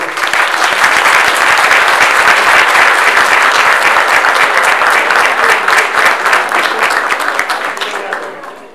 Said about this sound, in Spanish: démosle un aplauso a nuestro campeón mundial